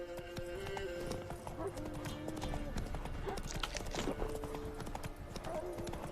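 Horse hooves clip-clop steadily in a video game, with occasional whinnies and game sounds and music layered over the footsteps, and a voice talking over them.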